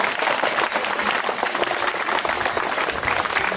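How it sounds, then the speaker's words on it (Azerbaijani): Loud, continuous crowd applause for coaches at a regional freestyle wrestling event, dense clapping with no break across the whole stretch. "mən istəyirəm məşqçilərimizi xüsusi alqışlarla təbrik edəyəm"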